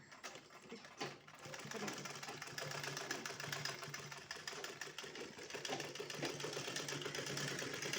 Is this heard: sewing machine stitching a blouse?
yes